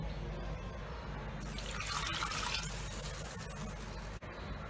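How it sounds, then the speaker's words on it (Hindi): Half a kilo of basmati rice is rinsed in water for pulao, a steady running and swishing water sound with a brighter splashing burst in the middle, close by and alone. "इसको 2-3 बार अच्छे से धो लेंगे।"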